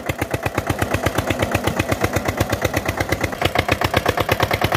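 An old Eicher tractor loaded with about 65 quintals of sugarcane runs hard: a loud, close, steady thumping diesel beat pulses several times a second, with no talk over it.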